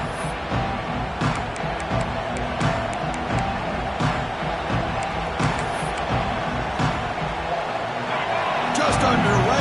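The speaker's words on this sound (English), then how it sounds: "this home crowd is fired up and ready to make a difference today" Home crowd in a college football video game roaring steadily after a kickoff, a dense wash of cheering and babble under a commentator's voice throughout.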